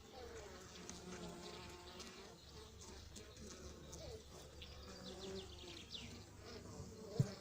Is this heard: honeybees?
yes